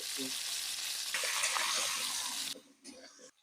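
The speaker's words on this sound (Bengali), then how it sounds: "আলু ভেজে নেব লবণ হলুদ" Potatoes with salt and turmeric fry in mustard oil, giving a loud, dense, steady sizzle up close that cuts off sharply near the end and leaves a few faint crackles.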